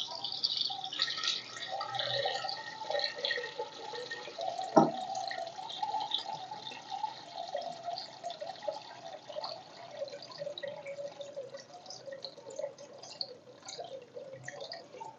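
Water pours into the sponge compartment of an aquarium sump filter, a steady, fairly quiet trickling stream with scattered drips and splashes, heard alone without speech.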